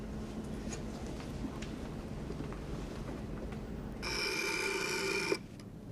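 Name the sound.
telephone ringing for an incoming call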